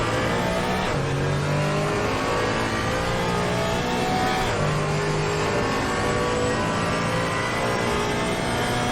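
Porsche GT4 race car engine in a racing video game at the Hungaroring at night, accelerating hard with a steady loud drone and rising harmonic sweeps as it climbs through gears, continuous with no talking.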